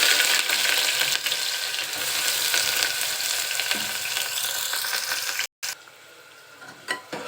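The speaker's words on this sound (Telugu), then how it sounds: "అలాగే ఇప్పుడు ఆనియన్స్ వేసేస్తున్నాను" Chopped onions sizzle steadily in hot oil in a pan for a spicy mutton curry, a loud, close, continuous hiss that cuts out briefly before resuming with a few faint clinks of stirring.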